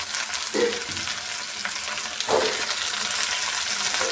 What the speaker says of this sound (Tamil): இதை எண்ணெயில் போட்டு நல்லா வதக்கி எடுத்துக்கணும் வெங்காயம் பூண்டு வதங்கட்டும்